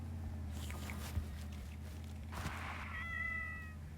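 In the video game Goat Simulator, a few short cat meows sound faintly over a steady low background hum, ending in a longer, clearer meow.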